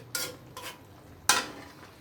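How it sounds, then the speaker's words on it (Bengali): Freshly cooked stinging catfish curry is poured and ladled into a dish, giving three short clinks and scrapes of a utensil against cookware, the last the loudest, with quiet pauses between them. "বন্ধুরা মাছের ঝোলটা ঢেলে নেই"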